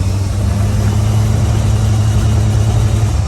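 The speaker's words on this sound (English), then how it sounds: "Listen to the motor cut out," A Mitsubishi mini truck's small engine runs steadily at a constant droning pitch, held at its governor limit, loud and close, holding an even hum without revving up or down.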